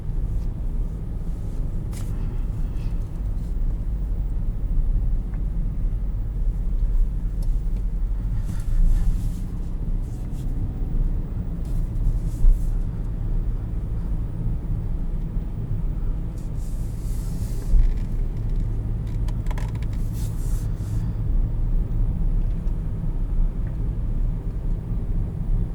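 A 2020 Hyundai Venue SEL accelerates on a test track, its engine drone and road rumble steady and heavy from inside the cabin, with occasional brief higher-pitched bursts over the continuous low roar.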